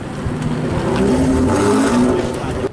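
Race cars set off together at the Calafat circuit during an amateur race, engines revving loudly and steadily close by for a few seconds, with rising tonal whine and a faint voice mixed in.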